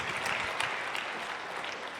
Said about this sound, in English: I think that's worth an applause.